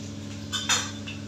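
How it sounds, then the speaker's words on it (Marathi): A spoon scrapes and clinks against a pan as a spice tempering of chillies and cumin is stirred, with a few short metallic knocks, close and fairly quiet. "फोडणी छानपैकी ढवळून घेते"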